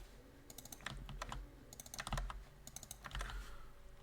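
Quick bursts of keystrokes on a computer keyboard while writing Rust code, fairly faint and close, in irregular clusters with short pauses between them, no talking.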